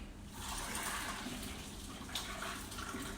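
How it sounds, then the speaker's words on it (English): A steady rush of drained pasta water pours and splashes into a sink, close and continuous, with no voices. "I'm going to drain it on the sink."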